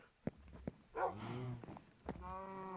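Minecraft cows lowing in a game, with several low, drawn-out moos mixed with short sharp thuds and clicks, heard without speech.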